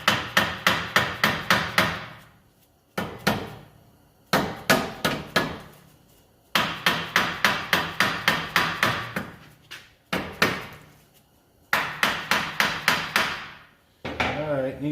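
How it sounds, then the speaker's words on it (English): A hammer taps on the axle of a VW MK4 during a wheel bearing job, striking in quick bursts of five or six ringing metallic hits, each burst followed by a short pause. "you might need to tap on the axle a little bit"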